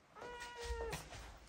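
A house cat gives a single drawn-out meow, fairly close and moderately loud, in a room in Ankara with faint background noise.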